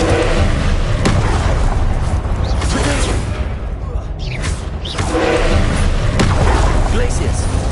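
Confringo spell blasts in a Hogwarts video game give loud, dense explosive booms and whooshes that rumble continuously, with sharper impacts recurring and a brief dip midway.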